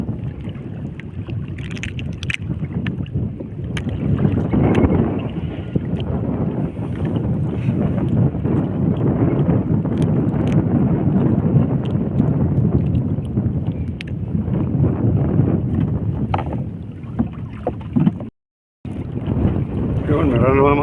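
Strong wind buffets a small fishing boat out on the sea, roaring steadily and close against the microphone with constant rushing noise and a brief dropout near the end.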